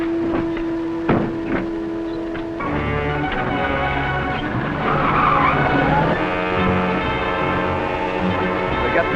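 A runaway car in a 1939 cliffhanger serial chase skids with long, loud tire squeals over a steady engine roar, the screeching swelling and holding throughout with no talk.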